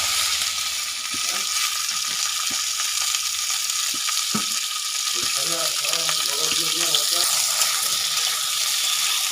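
Dried red chillies frying in oil for a boroi chutney, a continuous crackling sizzle with a few sharp pops and clinks of utensils, close up, no speech over it.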